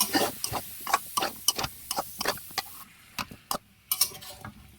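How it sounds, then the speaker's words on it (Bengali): Bottle gourd pieces being stirred in hot oil in a pan, a run of sharp, irregular spatula scrapes and clacks over a light sizzle, close. "লাউগুলো দিয়ে আমি আবার ভালোভাবে নেড়ে চেড়ে নেব"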